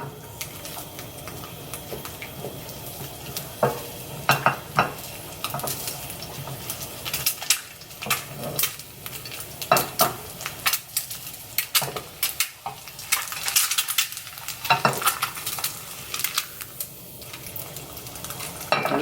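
Eggs frying in ghee in a hot pan, a soft sizzle broken by scattered crackles and pops of splattering, alongside intermittent clinks and scrapes of a utensil against the pan.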